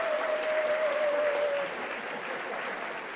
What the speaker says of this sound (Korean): 대표로 우리 김양희 성도님 악장이신데 일어나시고 우리 크게 박수하겠습니다